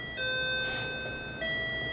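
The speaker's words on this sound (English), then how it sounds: "Oh, that's the doorbell." A doorbell chimes indoors with a clear two-tone ding-dong: a sustained bright tone steps down to a second tone, then rings on, moderately quiet and alone.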